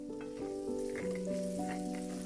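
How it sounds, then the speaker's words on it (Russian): Steady close sizzling of garlic frying in butter in a pan, with a faint tonal hum running underneath. "Обжариваю 30 секунд, не больше, до появления аромата."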